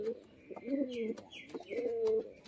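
A male Benarasi Giribaz pigeon coos nearby in a series of soft, low, rolling calls. The calls are quiet, and no one speaks.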